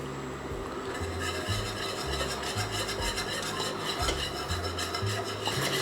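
Flour is stirred into melted butter in a pot to cook a roux for a classic béchamel, with rhythmic scraping and rubbing of a utensil against the pan bottom, close and continuous, no talking.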